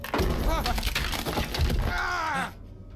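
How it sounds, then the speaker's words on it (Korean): A wooden chair smashes and splinters inside the Visage horror video game: a loud, close crash of breaking wood that rings on for about two and a half seconds, with game sounds or voice overlapping before it cuts off. "의자 박살 났는데?"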